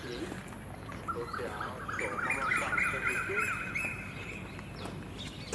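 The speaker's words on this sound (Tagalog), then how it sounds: "Huni ng mga hibon." Birds call and chirp in a busy outdoor setting in Singapore, their bright repeated notes rising over a steady background rumble and distant voices.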